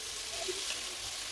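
Onions sautéing in a pan, a continuous close sizzle and crackle of frying with a faint stir, steady throughout.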